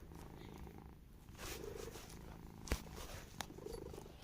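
A pet cat purring softly close up, a faint low rumbling purr continuing in quiet indoor surroundings, with a couple of brief small knocks.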